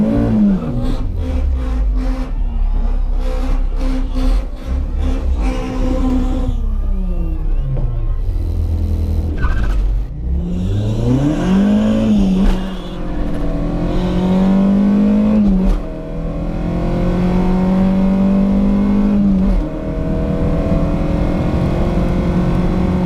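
An 8-valve Mk1 on individual throttle bodies launches down a quarter-mile drag strip, its engine droning loud and close through repeated rising revs and gear-change dips, pulling hard from start to finish.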